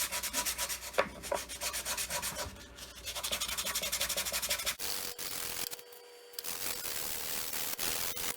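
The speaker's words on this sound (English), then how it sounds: "so let's sand that again." A wooden handle for an old 4oz cross pein hammer being hand-sanded, heard as close, rhythmic abrasive strokes in a fast back-and-forth, then a short pause and a few scattered rubs near the end.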